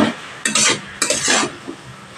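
Drumstick leaves with turmeric and salt are stir-fried over a high gas flame, giving close bursts of hissing sizzle as the spatula pushes the greens around, with faint utensil clinks between strokes.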